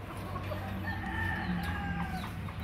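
Roosters and hens cluck and call repeatedly, close and fairly loud, with overlapping bird voices throughout.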